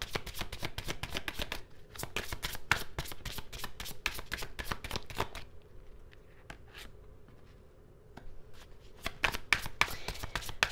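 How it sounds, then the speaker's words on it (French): Tarot cards being shuffled close up, a quiet run of rapid flicking riffles in bursts with a short pause in the middle, no talking. "on va continuer pour voir ce que les cartes souhaitent vous dire"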